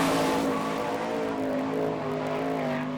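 A sprint race car roaring through turns three and four on the Hartford, Ohio dirt track, its engine holding a steady high-pitched drone that swells slightly as it passes, loud and unbroken with no voices.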